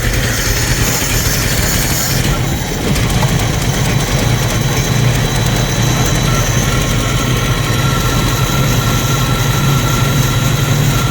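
A 1990 Jeep YJ's 4.2L engine runs loud and close just after carburetor work, a rough, continuous low rumble with a brief dip near the start, then a steady idle.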